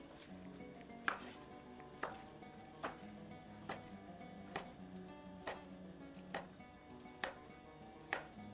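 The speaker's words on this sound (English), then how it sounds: "let it rest for about 10 minutes before slicing it into bite-sized pieces" A knife slices roasted char siu pork into bite-sized pieces on a board, about ten evenly spaced, crisp chops in a steady rhythm, close and fairly quiet.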